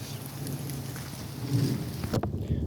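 Steady rain falls outdoors on a wet day, making a dense continuous hiss that holds throughout and is joined by a brief knock near the end.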